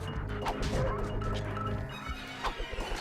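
Dog-like hound enemies in Ratchet & Clank: Going Commando bark and yip amid crashing, whacking combat sounds, with a few sharp barks standing out near the end. No talk is heard.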